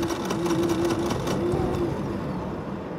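A brand-new Generac iQ3500 portable generator engine running rough as it struggles to start, a steady mechanical drone with a buzzing tone that persists throughout at moderate volume, no speech over it.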